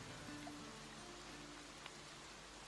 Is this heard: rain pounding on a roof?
yes